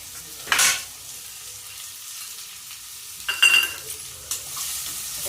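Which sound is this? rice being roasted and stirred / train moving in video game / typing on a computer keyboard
rice being roasted and stirred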